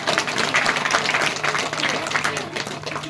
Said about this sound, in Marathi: वाजवा की टाळ्या थोड्याशा